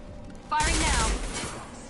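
A burst of rapid gunfire from the Mass Effect video game starts abruptly and rattles loudly for under a second, then trails off into softer echoing noise with a voice briefly heard.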